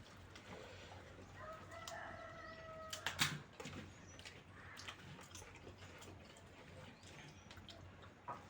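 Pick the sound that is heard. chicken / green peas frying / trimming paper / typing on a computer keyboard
chicken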